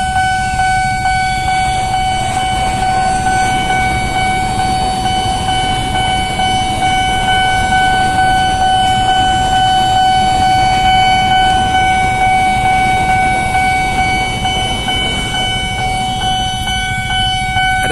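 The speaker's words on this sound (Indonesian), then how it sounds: "Ada dua kereta." Trains passing a railway level crossing on Jalan Dewi Sartika in Depok: a loud, continuous rolling rumble of rail cars with steady high warning or horn tones held above it for the whole stretch.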